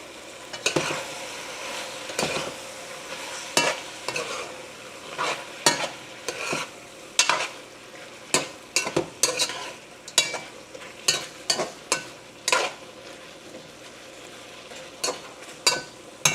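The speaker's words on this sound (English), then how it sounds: "Let me give it a quick stir before I start chopping up." A spoon stirs Dominican sancocho stew in a pot, giving irregular scraping knocks against the pot over a soft sizzling bubble, close and fairly loud, with no talking.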